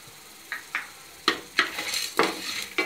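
Pepper, cumin and coconut being sautéed in a pan for a Chennai seer fish curry, a series of spatula scrapes and clinks against the pan, sharp and close, with a soft sizzle beneath and no speech.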